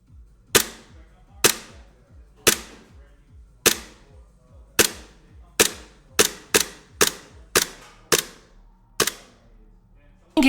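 A WE-Tech P226 airsoft pistol fired at an indoor range, about a dozen sharp snapping shots, each with a short echo, at first spaced a second or so apart and then coming faster.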